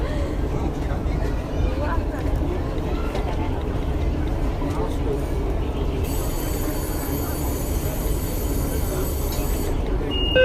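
Beijing Subway Line 2 train running between stations, a loud continuous rumble of wheels and carriage noise with a steady electronic tone joining later, under bilingual recorded announcements.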